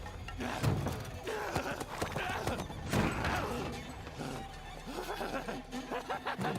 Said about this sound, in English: Here comes the horse.